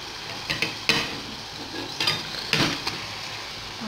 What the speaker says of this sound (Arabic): بعد ما تقلالي هذاك البصل ندير معاه لا فيوند هاشي تاعي،